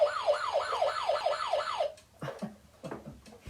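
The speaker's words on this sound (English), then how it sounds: "The sirens on the fire truck say," A fire truck's wailing siren sweeps up and down in quick repeated cycles, loud and near, then cuts off, followed by a few scattered bumps and clatters.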